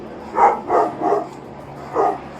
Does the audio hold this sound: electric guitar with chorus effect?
no